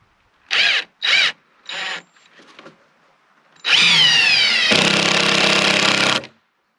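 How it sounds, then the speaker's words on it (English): A cordless drill with a low battery whirs in a few short bursts, then runs longer in a strained, uneven grind as it bogs down, with quiet pauses between. "My drill saying it's time to call it quits. Battery sounds like it's going low."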